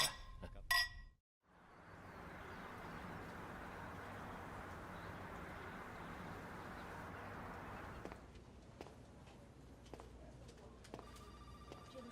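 Glasses clink together in a toast at a family meal, a single bright ring near the start followed by steady room ambience.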